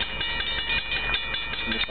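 A train rolls past close by near Atlit, a steady, loud rumble of wheels and cars with rhythmic clacks running throughout.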